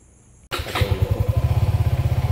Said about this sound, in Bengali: তোমাদের দাদা ভাই বাইক স্টার্ট দিয়ে দিয়েছে আর আমরা বেরিয়ে পড়লাম